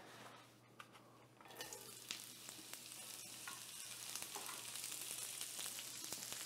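Thinly sliced whole onion sautéing in warm oil, a steady crackling sizzle that swells after the first second and a half, with occasional stirring clicks and no talk.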